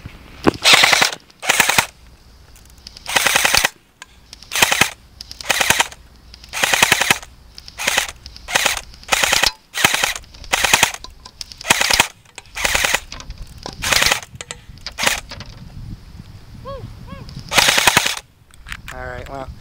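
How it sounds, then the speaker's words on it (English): A Dboys M4 airsoft gun fires fully automatic in repeated short and long bursts of rapid mechanical clatter, close and loud, separated by brief pauses, outdoors with some wind. "now we're going to be doing the full auto"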